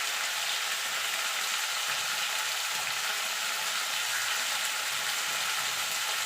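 Moringa drumsticks (sajne data) fry in a pan of oil with a soft, continuous sizzle that stays even and fairly quiet throughout, with no talking.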